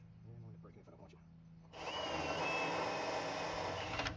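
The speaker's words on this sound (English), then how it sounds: "Now if we can get this drilled off without breaking the spot weld cutter." A spot weld cutter in a power drill bores out spot welds on a 1973-87 Chevrolet C10 pickup bed, starting abruptly after a brief spoken moment and then grinding steadily and loudly up close.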